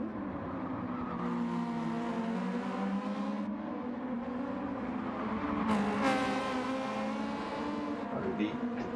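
Honda Civic race cars on the Nurburgring Sprint Circuit in a racing video game hold a loud, steady engine drone with shifting pitch throughout, one car swelling louder as it passes late on, with possible faint talk underneath.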